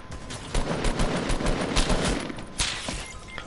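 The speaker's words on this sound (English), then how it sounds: "I just got sniped in the butt." Sniper and weapon fire in Fortnite crackles in a dense run of repeated shots, with a sharp louder crack near the end.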